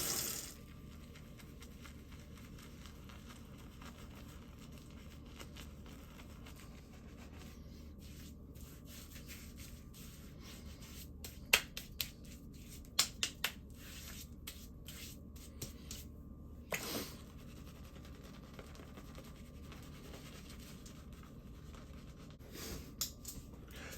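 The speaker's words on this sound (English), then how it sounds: "I'm going to palm lather left-handed." Shaving soap lathered by hand in the palm with the left hand, making a soft, continuous wet rubbing and squishing that runs quietly throughout with a few small sharper clicks.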